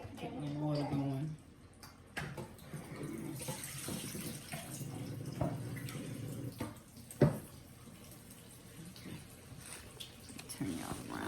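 A kitchen tap runs into a sink to rinse chopped cabbage, a faint steady wash of water with clatter and a sharp knock partway, while someone talks over it.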